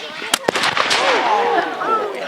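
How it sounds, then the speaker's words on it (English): Cannon fire at a Napoleonic battle reenactment at Fort George, with a captured French gun firing: two sharp, loud booms close together near the start, then crowd noise and voices talking. "the cannon's about to go off"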